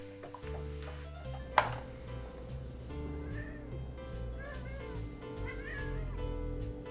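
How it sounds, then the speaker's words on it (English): A cat meows several times indoors at moderate distance, short plaintive calls spread over a low steady hum with a sharp knock partway through. "I've got to open the door for the cat."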